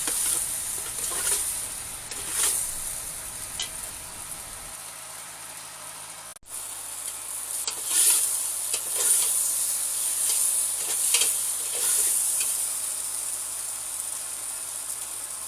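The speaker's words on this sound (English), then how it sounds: "Give it a good stir, and then we'll let it go for a little bit." Beef stew stirred in a pot: a steady hiss of sizzling with bursts of scraping and clattering from the spoon, close up, briefly cutting out midway before the frying noise resumes louder.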